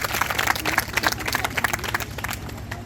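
Lively group applause with distinct individual hand claps from an audience at a gathering in Jhilrighat, Sauser Range, West Chhindwara, irregular and energetic throughout, fading slightly at the end.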